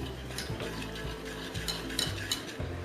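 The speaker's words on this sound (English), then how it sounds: "now we are going to start whisking it through" Chocolate and cream whisked into ganache in a pot produce a soft, rhythmic scraping and tapping of the whisk against metal, repeating steadily at a quiet level.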